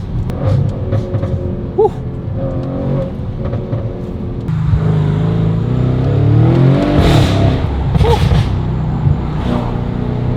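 A C7 Audi S6 with valved universal mufflers and a deleted resonator revs loud and close in rising, rumbling bursts, and a voice exclaims briefly between the revs.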